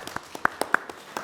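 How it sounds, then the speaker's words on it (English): A few people clap at a planning commission meeting, giving around eight scattered, uneven claps that stay fairly quiet and close, with no talk over them. "We'll clap"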